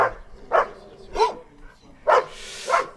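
Dogs at an animal shelter bark in short separate bursts, about five loud yaps spaced irregularly over a quiet background, fairly close by.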